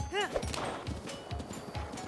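A horse in Breath of the Wild trots with steady, rhythmic hoof clip-clops, about four beats per second. The clopping stays close and moderately loud and is joined by a brief rising whinny-like call near the start.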